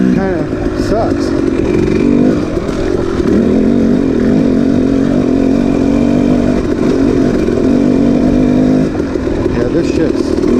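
A KTM 300xc two-stroke dirt bike ridden through a sandy wash near Sycamore Creek at Fort McDowell, Arizona, its engine droning loud and steady throughout with revs rising and falling as it churns through soft sand.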